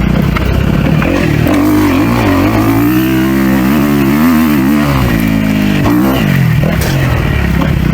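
A 250F four-stroke dirt bike pulls hard through third gear on rocky terrain, its engine loud and close with rising and falling revs and rattling chassis clatter, no voices.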